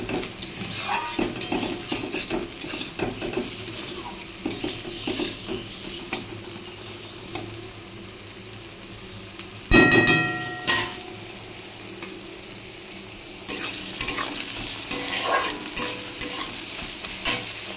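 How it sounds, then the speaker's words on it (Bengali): Onions frying in a pan beside bitter gourd, a continuous sizzle with frequent scraping stirs and clinks of a metal spoon, one louder clatter near the middle. "পেঁয়াজটা একটু ভাজা ভাজা হলে টমেটোটা কুচিয়ে পেঁয়াজের উপরেই দিয়ে দেবো"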